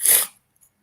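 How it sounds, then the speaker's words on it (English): One short, sharp human sneeze, a quick burst close to the mic that ends abruptly into near silence. "I just don't want to keep sneezing"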